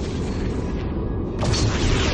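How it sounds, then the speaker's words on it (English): A Borg vessel blows up in the Star Trek Legacy space game as a loud, rumbling explosion that swells into a heavier burst partway through. "Borg vessel destroyed."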